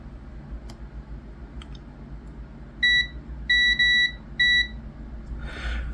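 Multimeter continuity test across the pins of a circuit board: a few short, clear electronic beeps in quick succession over a quiet room hum, with a faint click at the end.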